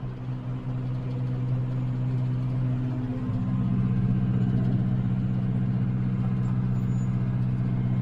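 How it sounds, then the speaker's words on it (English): Cab tractor engine, a John Deere 5065, running in a dusty field with a Jack Russell terrier aboard: a steady low diesel drone with a strong hum that swells slightly louder midway. "it feels funny to be in a cab tractor"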